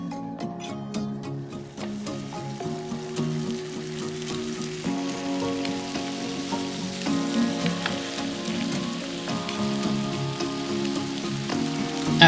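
Steak sears in a hot pan with extra virgin olive oil, giving a continuous crackling sizzle that stays steady throughout under a layer of melodic background music.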